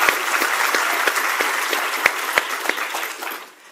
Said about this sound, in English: One more round of applause for Soledad and Bob Hurst